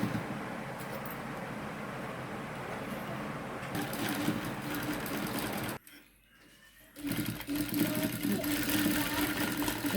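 A sewing machine stitches a folded chudidar piece with a steady, close mechanical whir. It stops for about a second partway through, then runs again.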